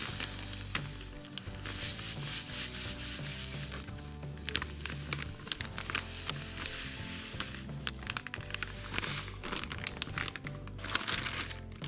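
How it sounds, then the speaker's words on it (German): Sand pours steadily into a held-open plastic bag, giving a continuous gritty rustle and crinkle of plastic that carries on throughout at a fairly quiet level, while making dyed decorative sand. "dass einer die Tüte aufhält und der andere den Sand dann da in die Tüte reinschüttet"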